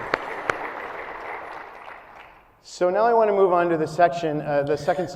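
At an annual public meeting of Destination Canada, an audience applauds the partners with a dense wash of clapping that gradually fades out. Someone then begins speaking clearly into a microphone.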